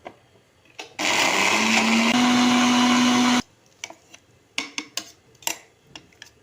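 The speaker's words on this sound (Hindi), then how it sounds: "हम इसे एक बार फिर ग्राइंडर को चलाएंगे" A kitchen grinder blending chickpeas and olive oil for hummus whirs loudly for a few seconds at a steady pitch, then cuts off, followed by scattered clicks and taps.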